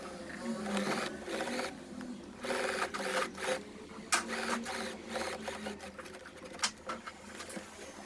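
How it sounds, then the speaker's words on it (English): A sewing machine stitches fabric for a summer slip dress in short intermittent runs, the quiet mechanical chatter starting and stopping against a low background. "And I sew them."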